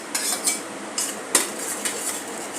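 A spoon mixes dry spices into pakoda gravy in a pan, giving a handful of close, bright metallic clinks and scrapes against the pan at an irregular pace.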